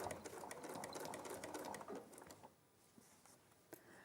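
A sewing machine runs in a rapid, even stitching burst through fabric, fairly close, then stops, leaving quieter handling sounds and a faint click near the end.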